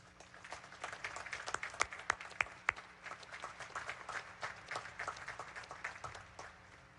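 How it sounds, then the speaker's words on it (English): Faint, distant applause from a large audience at a Naval Academy commencement recognizing distinguished graduates, steady patter of many hands with a few sharper nearby claps, over a low hum. "Please join me in recognizing and applauding these distinguished graduates."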